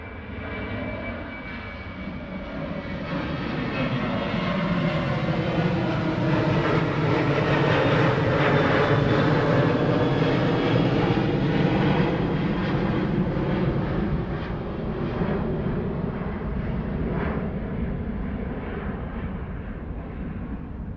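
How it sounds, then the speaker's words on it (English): A Ryanair airliner takes off at East Midlands Airport at night, its jet engines roaring loudly and steadily, swelling to a peak midway and then slowly easing as it climbs away, with no talk over it. "We have a Ryanair just about to lift."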